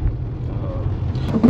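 A car drives along a road on the way from Vizag to Araku Valley, heard from inside as a steady low rumble of engine and tyres with faint bumps.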